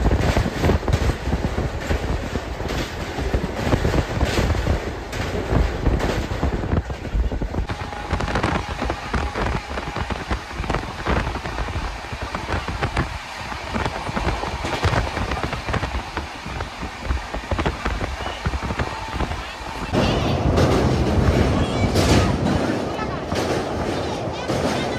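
The Dhauli Express running from Shalimar toward Puri makes a steady, close, loud rolling roar with rattling, like rain, from the carriage, and muffled voices mix in.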